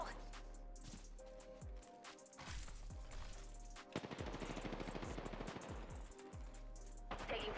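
Gunfire in the Apex Legends video game, bursts of rapid automatic shots and single cracks in quick succession, loud and close, with people talking over the fighting.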